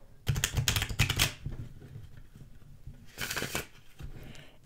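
A linen-finish tarot deck is shuffled close up in two quick bursts of crisp riffling card flutter, soft and near, with quiet pauses between.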